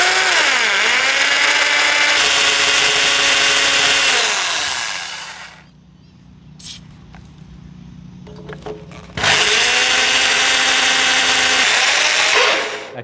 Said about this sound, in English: This is not a slow speed drill, so I'm gonna have to trigger it